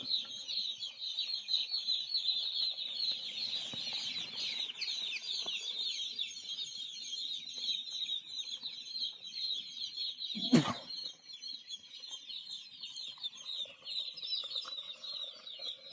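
Many chicks chirp continuously in an electrically heated brooder on a poultry farm, a dense steady peeping chorus close by with one brief louder bump midway.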